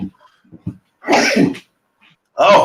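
A single sharp sneeze bursts out close to the microphone after a few small breaths, followed by a second sneeze-like burst, with a brief spoken word at the start.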